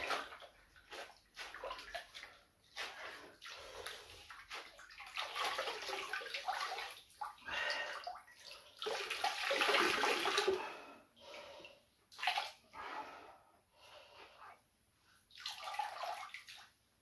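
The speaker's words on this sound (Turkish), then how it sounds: "Evet arkadaşlar pipo filtreyi yıkadık. Gördüğünüz gibi kendi suyla yıkadık." An aquarium pipe filter is washed in its own tank water, with irregular bursts of sloshing, splashing and gurgling rising and falling over many seconds, close by with brief quiet gaps and no talk.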